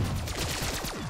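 Rapid gunfire in Call of Duty Black Ops III, a quick run of sharp repeated shots in a steady automatic rhythm, loud and close, lasting about a second.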